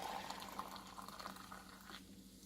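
Water streams into a coffee cup already holding coffee and sweetener, a faint, steady, close trickle lasting about two seconds before it stops.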